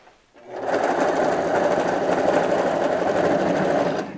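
A sewing machine stitches an insulation blanket for a still, running in one steady, close, loud burst of rapid whirring lasting a few seconds before stopping.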